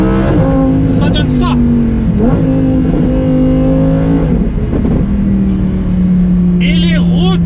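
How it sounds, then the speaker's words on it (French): Lamborghini V-car with 640 hp engine revving hard in repeated loud bursts, each rise ending with sharp exhaust pops and crackles, close by, a voice speaking briefly over it. "Et les retours d'échappement, ils sont juste fous"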